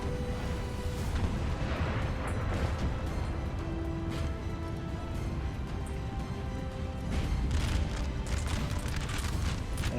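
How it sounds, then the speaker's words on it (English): Artillery bombardment in Napoleon Total War at the Battle of Waterloo: a dense, continuous rumble of distant cannon booms and crackling musketry, steady and heavy throughout. "Artillery is just pounding this area."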